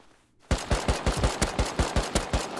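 Rapid bursts of automatic gunfire in the survival game Rust, about a dozen sharp, evenly spaced shots close and loud after a brief near-silent moment.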